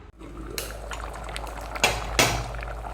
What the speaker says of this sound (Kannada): ಈಗ ಚೆನ್ನಾಗಿ ಕುದಿ ಬರ್ತಾ ಇದೆ